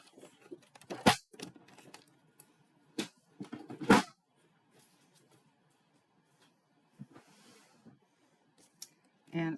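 Scissors snip through a sheet of 8.5 by 11 card stock for a Christmas greenery holiday card, giving a few sharp, close cuts separated by quiet pauses.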